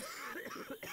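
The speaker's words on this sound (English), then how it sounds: "Coughing from smoke." A Left 4 Dead 2 survivor coughs from smoke at the Dark Carnival fairground, a short run of harsh, rasping coughs in quick succession, close and fairly loud, with no talk over them.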